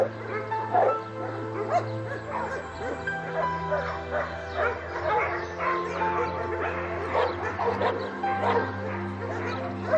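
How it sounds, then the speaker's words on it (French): Many dogs at a large dog shelter bark, yip and whine all at once, a dense overlapping chorus close and far, continuous throughout, with a low steady hum beneath. "Plus de 230 chiens profitent ainsi des espaces de liberté."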